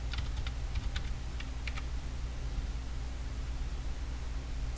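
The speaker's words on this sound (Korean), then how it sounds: "자음이라고 타이핑 하실까요?" Rapid clicking of computer keyboard keys in short bursts early on, then fading, over a steady low hum and hiss.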